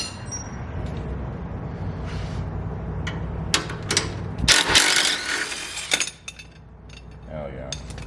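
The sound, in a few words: removing motorcycle floorboard bolts with a ratchet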